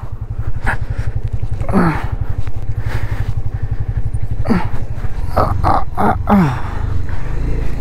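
Motorcycle engine braking down a mountain road from Mangan to Lachen in Sikkim, a loud, steady low engine rumble close by, with voices and short vocal sounds over it.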